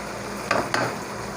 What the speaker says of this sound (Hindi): चम्मच से हिलाएंगे।